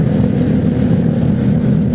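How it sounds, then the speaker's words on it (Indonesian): A motorcycle with a Kobra aftermarket exhaust gives a loud, steady, low engine rumble that holds constant throughout, close by, during a night ride with no talking over it. "Ada knalpot kobra."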